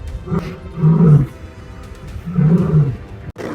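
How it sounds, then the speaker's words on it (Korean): Lionesses in the wild snarl and roar in two long, deep growling bursts while fiercely attacking a male lion, loud and rough with a heavy low rumble. "이 암사자들은 낯선 사람을 자신의 영역에 들어오게 하지 않고 맹렬하게 수컷 사자를 공격합니다"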